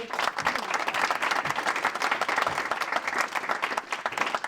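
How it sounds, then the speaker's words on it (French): Loud, dense applause from an audience at an award ceremony, many hands clapping in a steady unbroken roar for several seconds. "On peut les applaudir, s'il vous plaît."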